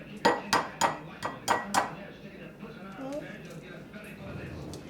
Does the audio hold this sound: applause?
no